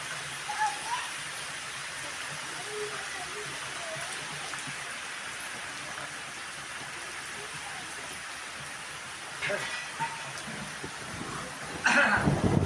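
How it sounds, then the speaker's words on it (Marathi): Heavy rain pours down in a constant, dense hiss, with a few louder splashing bursts near the end. "खूप सारा एकदम असा जोराचा पाऊस पडतोय"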